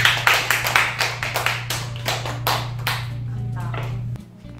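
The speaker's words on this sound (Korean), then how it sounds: "박수 부탁드릴게요." A small group claps at a bar cocktail competition once a drink is finished, a quick run of close, uneven hand claps that thins out after a few seconds over a steady low hum.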